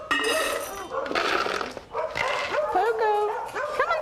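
Several of a ranch's 17 dogs bark and yip excitedly up close in overlapping bursts, with whiny, rising calls mixed among the barks.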